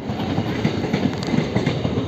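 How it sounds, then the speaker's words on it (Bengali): A train rolls into a station with a steady, loud rumble and rhythmic clatter of railcar wheels, close by and continuous throughout. "এই ট্রেনে যাবো, ট্রেন ঢুকে পড়েছে।"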